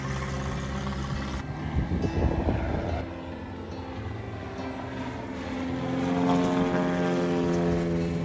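Propeller floatplanes fly over a lakeside seaplane base in Naples, Maine during a fly-in pumpkin drop. Their engines make a steady droning roar that swells as one passes close early on and builds again near the end, with no talk.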